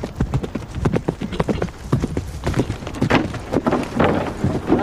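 Rapid, irregular hoofbeats of a medieval cavalry charge pounding the ground, a dense galloping clatter with wind-like rumble, fairly close and continuous throughout.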